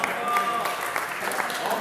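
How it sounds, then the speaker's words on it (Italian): Spectators applaud the winner of a cross duathlon European championship race, a dense, steady wash of clapping at moderate level with voices mixed in throughout. "L'applauso al pubblico per Marco Paragossi!"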